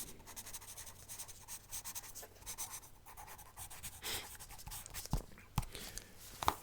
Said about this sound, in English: I'll just write that one down in my notebook.